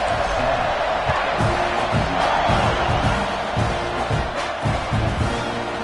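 A packed football stadium crowd at the Texas A&M vs Iowa game roars steadily as the team lines up for kickoff. The loud, continuous wash of cheering is broken by occasional thumps and bursts.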